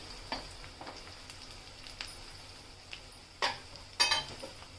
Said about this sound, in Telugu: వేసుకున్న తర్వాత చూడండి, ఇట్లా ఫ్రై అయిపోవాలి ఉల్లిపాయలు.